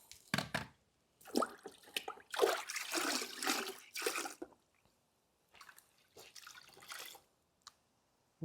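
Rinseless wash solution drips and trickles from a saturated sponge held over a car, giving irregular bursts of splashing liquid separated by short silences, with no talk.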